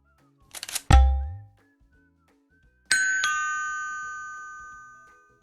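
A notification bell sounds twice, each a bright ringing chime with a long fading tail; the second strike is the more sustained. A dull thump lands at the first strike, and there is no talk.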